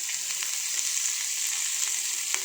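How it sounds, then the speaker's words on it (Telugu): Okra fries in hot oil with a steady, bright sizzle and a faint crackle, continuous and close throughout. "నూనె వేసి కూడా బాగా వేయించుతుంది నూనెలా."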